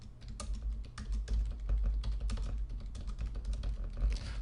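Fast, uneven keystrokes clatter on a computer keyboard, close and fairly quiet, in a continuous run of clicks with a low background hum and no speech.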